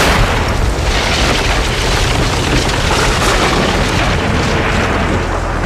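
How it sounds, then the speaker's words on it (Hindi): A loud, sustained rumbling boom like a big explosion, dense and roaring throughout with no voices. "उसके गिरते ही जोरदार धमाका हुआ।"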